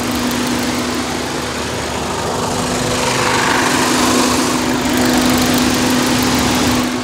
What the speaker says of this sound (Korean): 지금 말리부 차량 지금 엔진 시동 한번 걸어보게 되었는데요